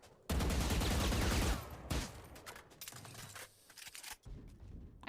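Gunfire from a video game gun: a loud sustained burst of automatic fire opens the stretch, then fainter scattered shots and game noise follow before another short crack near the end.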